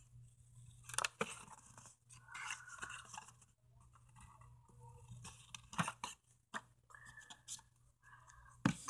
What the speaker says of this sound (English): cut foam